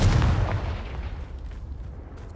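A Confringo fire spell explodes in the game Hogwarts Legacy: one heavy boom with a deep low-end thump that trails into a fading rumble.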